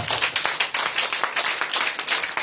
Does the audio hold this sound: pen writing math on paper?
no